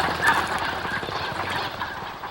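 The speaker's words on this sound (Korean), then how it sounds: "밤섬을 찾은 겨울 철새는 대부분 오리다" Winter migratory ducks calling on Bamseom, a river island in the Han River in Seoul, a dense flock chorus of overlapping quacks and calls that keeps on steadily throughout with no talking.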